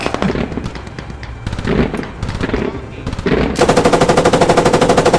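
Rapid automatic gunfire from a Squad match rattles in dense bursts, swelling into a loud, continuous volley near the end, with excited shouting players underneath.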